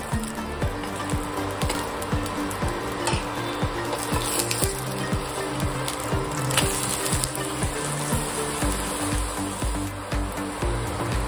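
Paratha of shepu and methi greens frying in ghee on a hot pan, a steady close sizzle and crackle with soft scraping and flipping sounds throughout, no speech.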